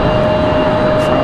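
A jet airliner lands at Raleigh Durham International Airport with a loud, continuous engine roar and a steady whine, heard from close by with no talking.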